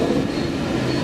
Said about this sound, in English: here's a District line going towards Ealing Broadway